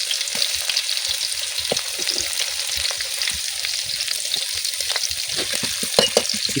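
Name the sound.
chopped onions frying in oil on wood-fired clay stove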